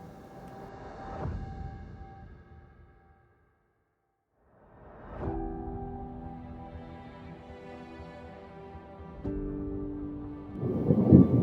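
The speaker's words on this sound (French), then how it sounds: "Une petite orage." Thunder from an isolated thunderstorm, deep rolling rumbles that swell, fade into near silence, then return with a louder low burst at the end.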